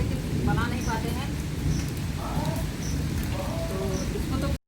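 Steady rain falls outdoors at a village cooking spot by an earthen stove, a continuous low wash heard throughout, with a voice talking over it and brief birdlike chirps.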